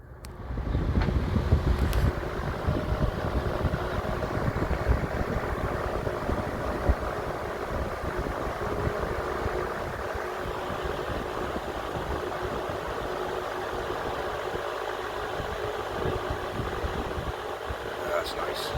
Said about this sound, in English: here's the fire up of this box fan